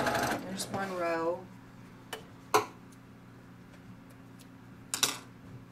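A sewing machine stitches quilt blocks for a small table topper. A short burst of stitching runs under a voice at the start, followed by quiet with a few isolated clicks and taps.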